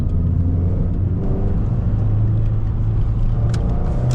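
A Peugeot 206 engine pulls steadily at low revs to overtake, a continuous loud rumble with a deep engine drone and road noise running throughout, slightly rising as it accelerates.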